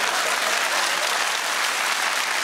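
Loud, dense applause from a comedy show's studio audience, continuous and close, filling the whole moment without a break.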